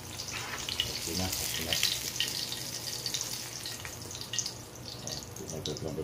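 Eggs frying in a pan give a steady, close sizzle with crackling spatter that runs the whole time at an even, moderate level, along with faint watery and stirring noises.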